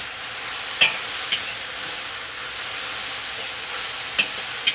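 Chinese loofah and chicken stir-frying in a wok, a constant close sizzle broken by a few sharp clacks of the spatula against the metal.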